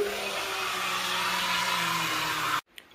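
Steady whirring hum of an electric mixer stirring a corn moonshine mash with beta amylase added, loud and continuous, then cutting off abruptly near the end.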